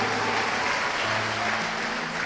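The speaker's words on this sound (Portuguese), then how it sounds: "Esse aplauso aí foi para quem?" Applause from a church congregation during a sermon, a dense steady wash of clapping filling the whole stretch at even loudness, with no talk over it.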